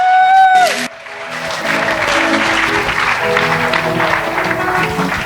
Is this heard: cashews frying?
no